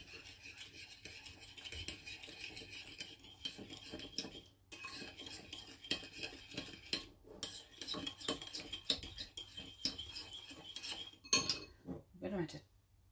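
Soy sauce, light and dark, being stirred with a utensil in a bowl for sweet and sour chicken: continuous scraping and clinking of metal against dishware, moderately quiet, with a few sharper clinks near the end.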